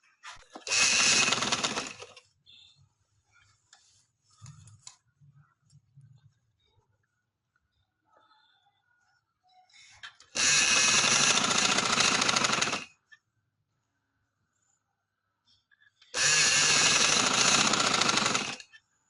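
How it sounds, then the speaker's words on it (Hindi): Sewing machine stitching a short summer frock, running loud and steady in three long bursts of roughly two to three seconds each, separated by quiet gaps that hold faint handling sounds. "इधर से शुरू करके तो मैं इधर सिलाई लगाऊंगी"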